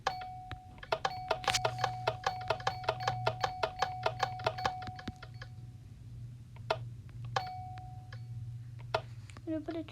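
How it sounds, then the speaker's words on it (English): A homemade doorbell rings out as a rapid train of sharp metallic ticking chimes, followed by a few isolated strikes, fairly close and clear against a low background hum. "Then you just press that. And it makes the doorbell sound."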